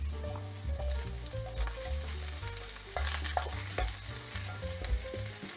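Jalapenos and onions sizzle steadily in a hot pan while being stirred, with intermittent scraping and clatter over a continuous frying hiss, close and fairly loud, no talking.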